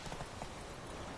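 Hoofbeats of a galloping horse in the video game Witcher 3, a steady rapid clip-clop rhythm close and loud over a continuous wash of game ambience, with no talking.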